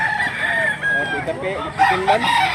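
A pumpkin sweater gamefowl rooster crows in a drawn-out call close by, with harmonic bands and other birds and faint voices in the background.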